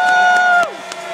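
Spectators at a ski torchlight descent give an ovation: a loud, sustained shouted cheer that drops away after a moment, with scattered claps and crowd noise continuing underneath.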